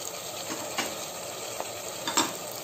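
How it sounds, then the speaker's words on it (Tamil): Tomatoes with turmeric and chilli powder stirred in a pan for mushroom biryani made in a cooker: a brief steady sizzle with a few soft scraping strokes and a light clink, close and unaccompanied by talk. "இதையும் நல்லா மிக்ஸ் பண்ணிக்கோங்க."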